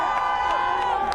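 Lively crowd of Eagles fans celebrating outdoors at night after their team clinched a Super Bowl berth, a dense steady roar of voices with scattered whoops and shouts throughout.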